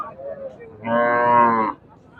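A small local heifer lets out one loud, close moo lasting under a second, with faint background noise before and after, at a cattle market.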